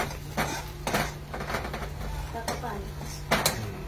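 Crushed peanuts being stirred and sautéed in a pan, a spatula scraping and knocking against the metal in irregular strokes, close up over a soft background hum.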